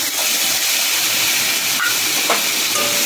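Ginger and green chili paste sizzles in hot mustard oil, a loud, steady, close hissing spatter that holds evenly throughout with faint clicks.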